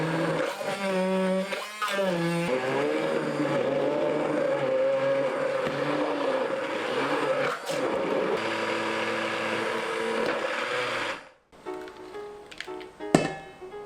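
A blender grinds ginger, Cheongyang chili peppers and water in a steady, loud motor whir with shifting pitch for about eleven seconds, then cuts off and leaves quieter kitchen clatter and a sharp knock.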